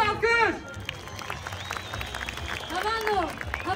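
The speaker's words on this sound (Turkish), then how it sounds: "Güçlü bir alkış." Crowd applause at an outdoor Nawroz gathering in Istanbul, loose clapping and cheering mixed with nearby voices and whistling tones, moderately loud and busy.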